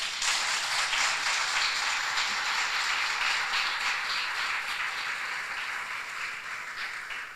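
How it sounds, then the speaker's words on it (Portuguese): An audience at a women's rights panel claps steadily and densely throughout, a broad sustained wash of applause that fades slightly toward the end, with no voices over it. "vou pedir agora uma grande salva de palmas"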